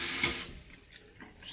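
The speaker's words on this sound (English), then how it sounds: "just a regular faucet" A regular faucet in a room at the Toyoko Inn ITM Osaka hotel runs briefly with a bright hissing gush that cuts off, followed by quieter room sound, with no talking.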